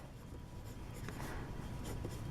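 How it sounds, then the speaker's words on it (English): Pencil lightly writing on the back of paper artwork, a soft continuous scratching close to the mic with brief strokes, no talking. "I will write in pencil very lightly my full name"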